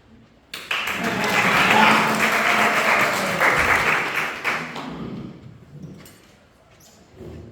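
Audience applause during an IT talk, starting abruptly with loud, dense clapping that swells, holds for several seconds, then thins and fades toward the end, with a few scattered claps lingering.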